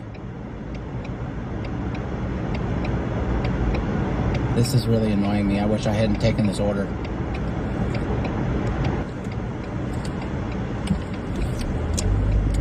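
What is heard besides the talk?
road traffic noise heard from a delivery car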